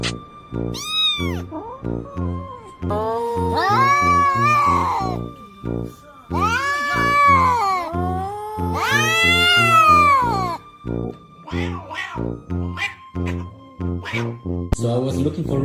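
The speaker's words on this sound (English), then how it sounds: "So I was looking for Ruby the baby cat the whole time until I found out" A baby cat meows repeatedly in loud, drawn-out wails, some rising into caterwauling cries, separated by short pauses and continuing close up for the whole stretch.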